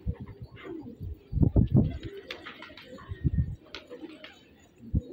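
Pigeons held in a net give low, soft coos in a few clustered bursts, heard close amid rustling, with a voice speaking now and then.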